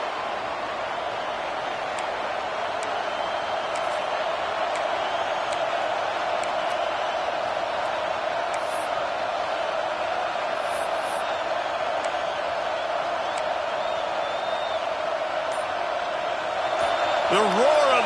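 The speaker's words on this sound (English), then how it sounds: "The roar of the crowd trying to fuel this defense to keep them." A steady crowd roar fills a football stadium in a Madden game, a broad, even wash of noise holding throughout and swelling slightly near the end.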